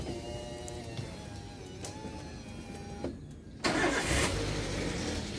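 A Toyota Xenia engine whirs as it cranks, then catches near the end and runs with a rough, uneven idle after an engine rebuild, heard from close by.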